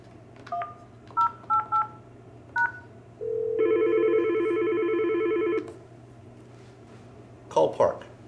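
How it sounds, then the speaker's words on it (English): A Yealink desk phone dials an extension for an intercom call: several short DTMF keypad tones, then a sustained ringback tone lasting about two seconds, followed by a couple more brief beeps, with a low steady hum underneath. "dial the 4-digit number or 5-digit number, whichever the case is, and press send"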